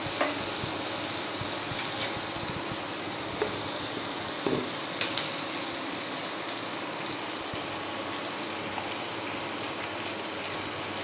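Onion frying in a pan, a dense, even sizzle with light stirring scrapes and a few soft knocks, close and continuous with no voices.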